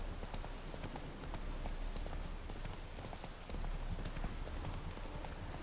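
Roach, the horse in The Witcher video game, clip-clops in a steady rhythm of hoofbeats over a constant patter of rain, with no talking.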